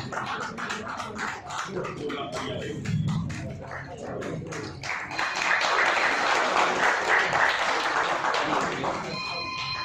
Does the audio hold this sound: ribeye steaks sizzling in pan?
no